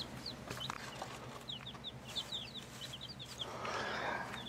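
Baby chicks in a heat box giving repeated high, thin peeps in quick scattered bursts over a low steady hum, fairly faint, with a rustle of scratching near the end.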